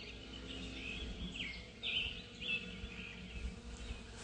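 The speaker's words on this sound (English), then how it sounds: "With all the birds and the doves" Morning birdsong at sunrise in May: several birds chirp and whistle at moderate distance, with a few brighter calls standing out over a steady low background hum; doves are not distinct.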